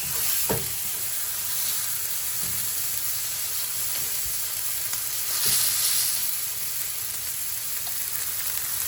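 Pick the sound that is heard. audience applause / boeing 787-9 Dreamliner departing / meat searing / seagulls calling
meat searing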